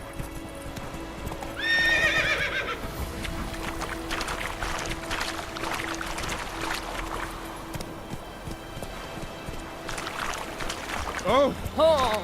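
Roach the horse gallops in The Witcher 3, rapid hoof clip-clops running steadily up close with a whinny near the start and game music and effects layered over it.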